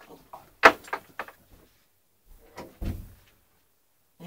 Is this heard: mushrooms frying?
no